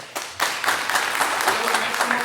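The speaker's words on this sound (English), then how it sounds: "So a big applause for them." Audience applause in a film festival Q&A hall, starting after a short quiet lead-in and swelling into steady, dense clapping from a sizable crowd that holds for the rest of the moment.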